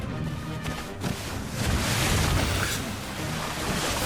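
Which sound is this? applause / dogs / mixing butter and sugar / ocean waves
ocean waves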